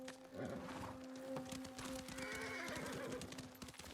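A horse in the Ghost of Tsushima video game neighs and whinnies loudly and close, with the call stretching across the whole stretch over a steady tonal game backdrop.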